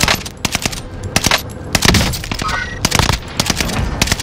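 Sharp, loud gunshots in Call of Duty: Modern Warfare ring out in irregular bursts and single cracks, close and punchy over low game ambience.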